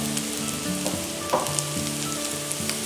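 Garlic fries in a pan for farofa with beef cracklings, a steady close sizzle with scattered crackles and pops, humming faintly beneath and no voices over it.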